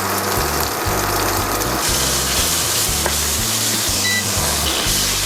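Butter and olive oil sizzling in a pan, giving a loud, constant hiss with a low, rhythmic rumble underneath throughout.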